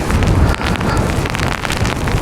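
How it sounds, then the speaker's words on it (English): Strong wind howls and buffets the microphone without a break during Storm Claudia in the UK, a loud, rough roar sweeping across an open children's play area by fields, with no voices. "The wind was just absolutely howling through."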